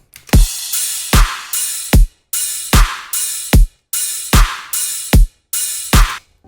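A looping electronic drum rhythm: deep kick thumps alternate with bright clap cracks over a steady wash of simple cymbals, loud and continuous with no voices.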